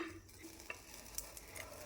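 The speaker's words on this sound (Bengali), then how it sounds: "এখন আমি উল্টিয়ে পাল্টিয়ে রুটিটা খুব ভালোভাবে ভেজে নেব" Soft sizzling from a hot pan with a few light scraping and tapping sounds as a semolina roti is turned, quiet and close.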